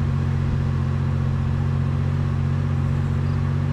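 A car engine in the DayZ video game runs at a steady low drone with a constant rumble as the car is driven toward a cliff, continuous and fairly loud throughout with no talking.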